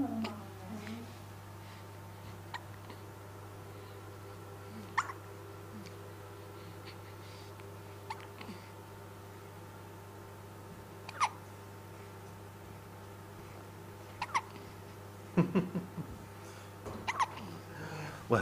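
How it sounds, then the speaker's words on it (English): A baby's hiccups come as faint, brief, widely spaced little catches, several over the stretch, quiet against a steady room hum with occasional soft stirring. "Well, I hope the hiccups go away."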